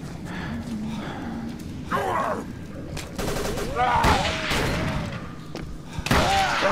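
Gunfire and heavy thumps in the Call of Cthulhu video game, several sharp bangs and impacts scattered through a busy scene, with a voice exclaiming between them.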